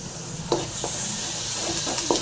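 Raw banana pieces and crushed garlic fry in a pan, making a continuous close hiss and sizzle broken by a few soft stirring clicks, with no voices.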